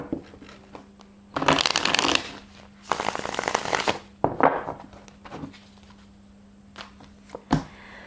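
Tarot cards being shuffled by hand in several separate bursts, each a close, crisp riffle lasting about a second, with soft taps and thumps of the deck between them and no talking.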